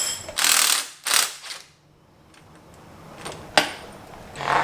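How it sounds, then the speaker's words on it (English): Spring compressors being loosened and taken off a custom car strut: close metallic ratcheting and clanking, two strong bursts at the start, then a quiet stretch before scattered clicks and a sharp clank. "we can get our spring compressors off"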